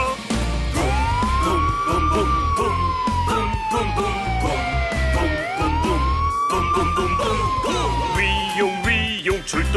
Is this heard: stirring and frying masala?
no